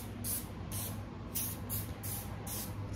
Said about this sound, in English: I don't know why I'm spraying in my room